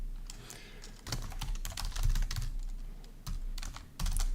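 Someone types on a computer keyboard in several quick bursts of close, clicking keystrokes with short pauses between them, quiet and alone.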